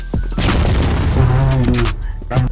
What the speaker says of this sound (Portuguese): Granada de fumaça! Bomba de fumaça! Toma, granada!